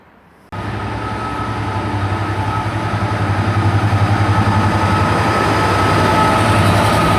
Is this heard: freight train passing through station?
yes